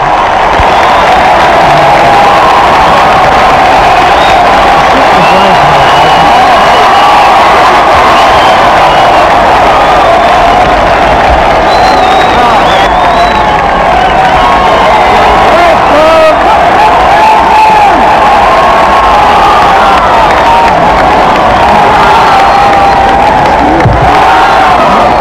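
A huge crowd outside Buckingham Palace roars and cheers continuously for a royal couple on the balcony, a loud, dense, unbroken wall of voices and shouts from an old newsreel.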